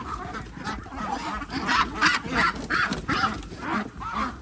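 Muscovy ducks call on a farm while being caught for shipment, giving hoarse honking and quacking cries in repeated bursts amid rustling and scuffling, fairly close and continuous.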